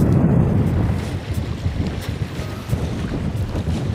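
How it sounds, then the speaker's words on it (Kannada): Strong wind buffets the microphone at Chikkalingadahalli Dam in Chincholi, Kalaburagi, a loud continuous low rumble with gusty swells and no voices. "ಇಲ್ಲಿ ತುಂಬ ಗಾಳಿ ಬರ್ತಾಯಿದೆ"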